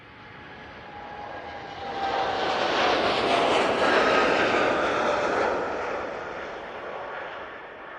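A TUI Boeing 787 Dreamliner takes off at Manchester Airport, its broad jet roar swelling from a distance to a loud peak mid-clip, then easing slightly as it climbs away, with no talk.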